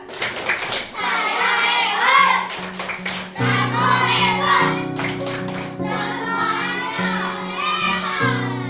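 A class of children performs the 'tepuk hebat' rhythmic clap, with bursts of patterned hand claps alternating with children chanting together in a lively, close classroom.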